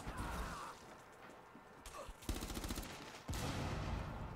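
Gunfire in the Rainbow Six video game, several rapid bursts of automatic fire and sharp shots close by, with clattering between bursts.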